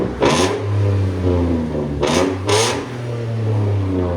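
A 2005 Nissan Frontier with a 4.0L V6, manual gearbox and straight pipes revs loudly and close, its steady exhaust drone swelling into three sharp throttle blips with no voices.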